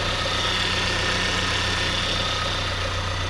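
A Volkswagen Golf engine idles after an engine swap, a steady, close rumble with a low hum and even mechanical drone, unbroken and without talk.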